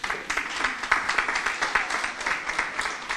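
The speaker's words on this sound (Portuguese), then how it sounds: "Uma salva de palmas para a Rosa." Steady clapping from a church congregation, moderately distant and fairly faint, with brisk, even claps continuing throughout.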